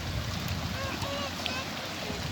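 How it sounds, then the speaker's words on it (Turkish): A speedboat passes near a pier, its low engine drone blending with wind and water noise while voices talk nearby. "Sürat teknesi geçiyor bak."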